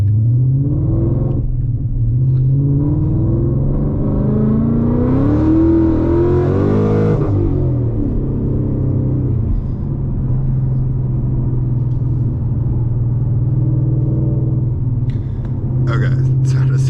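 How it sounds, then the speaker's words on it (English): A Whipple-supercharged 2025 Mustang GT S650 heard from inside the cabin: a loud, steady low engine rumble with one rising rev around the middle, then settling back to a constant drone, with someone talking over it. "We're behind the wheel of the Whipple S650 now. So I'm going to take you guys to a drive"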